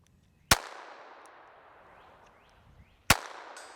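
Two sharp, loud unsuppressed .22 shots from a High Standard derringer fired at a steel plate outdoors, spaced about two and a half seconds apart, each a crisp crack trailing into a short decaying echo.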